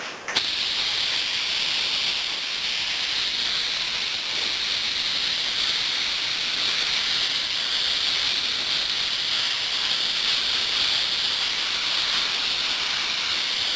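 A spray gun hisses continuously and loudly as it lays a color coat onto the leather interior of a 1962 Porsche, a steady airy spray running nearly fourteen seconds without pause.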